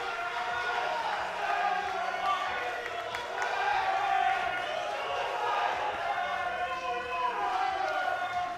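A crowd at a junior world powerlifting championship record attempt roars steadily, a broad sustained wash of cheering and shouts at even loudness throughout, with a commentator's voice mixed in.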